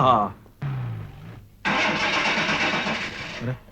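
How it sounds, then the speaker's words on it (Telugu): A car engine in a film scene cranks with a rough, sustained rumble that follows brief voices, then cuts off without settling into a smooth idle. "దీని ఇంజిన్ కి ఏదో జబ్బు చేసినట్టుంది"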